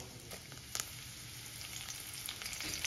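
Mustard seeds, cumin and curry leaves sizzle in hot ghee, a soft, steady crackle with scattered small pops, fairly faint and with no talking.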